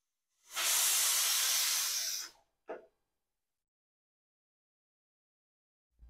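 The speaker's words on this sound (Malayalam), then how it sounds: "കുക്കറിലൊരു നാല് വിസിൽ ഒഴിപ്പിക്കാം." A pressure cooker cooking sambar lets out one loud, steady steam hiss lasting about two seconds, followed by a short puff, then silence.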